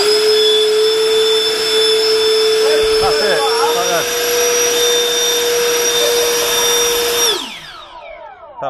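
A new Taljet model jet engine from Clarke Airways on its first run-up at full throttle, a loud steady high-pitched whine with a droning hum that holds for about seven seconds and then spools down abruptly.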